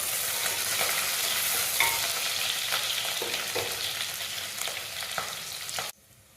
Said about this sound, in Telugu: ఉల్లిపాయ కట్ చేసుకున్న ఉల్లిపాయలు, పచ్చిమిరపకాయలు, కొంచెం పుదీనా ఆకు ఇవన్నీ వేసి వేయించుకోవాలి